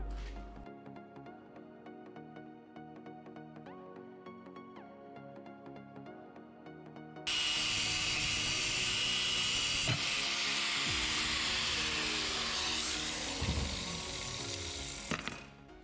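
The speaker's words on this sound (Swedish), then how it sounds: "så tänker jag att jag kör med rondellen bara" An angle grinder with a cutting disc working on a steel filter wrench for a Komatsu KCCV filter, a steady whining hum that jumps to a loud, harsh cutting roar halfway through and holds.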